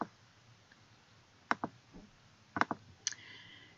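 A few sharp computer mouse clicks on an orange website button, isolated quiet taps spaced apart over a faint background hum.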